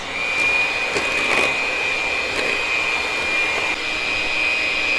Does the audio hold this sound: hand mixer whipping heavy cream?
yes